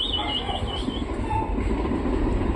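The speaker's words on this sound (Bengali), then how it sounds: "ট্রেন চলে এসছে" A train rumbles close by with heavy, steady wheel noise and a faint metallic squeal near the start, loud and continuous throughout.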